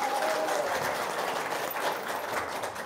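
Audience applause at a Sunday gathering, a dense, steady wash of clapping that holds loud and unbroken from start to finish with no voices over it.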